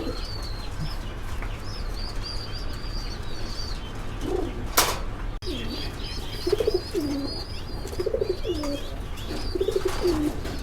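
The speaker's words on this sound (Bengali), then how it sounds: "তো আমরা নেক্সট খাঁচায় এক জোড়া ব্লু শার্টিন কবুতর দেখতে পাচ্ছি।" A pair of Blue Shirtin pigeons sitting on eggs in a cage at a fancy pigeon farm coo in repeated low, wavering phrases, with a brief burst of wing flapping midway and steady background hum and faint chirps from other birds.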